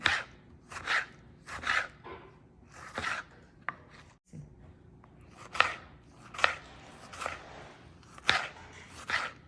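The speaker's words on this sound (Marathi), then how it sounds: "एक टोमॅटो घेतलेला आहे लहान साईजचा आहे तो पण आपण कापून घेऊया" Knife chopping a small tomato into fine pieces for a tiffin recipe, a run of crisp, regular blade knocks on a board, close and clear, with a brief pause midway before the steady chopping resumes.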